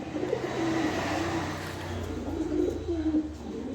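A pair of big white Mumbai pigeons, the hen already settling onto eggs, coo close by in low, throaty, continuous warbles that rise and fall over a steady background hum.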